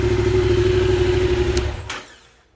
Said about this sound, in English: It's a stock exhaust on the bike.